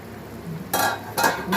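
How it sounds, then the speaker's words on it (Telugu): Metal lid lifted off a cooking pot of simmering prawn and okra curry, heard as three short clattering bursts close by after a quiet, low hiss. "రెండు మూత తీస్తున్నాను"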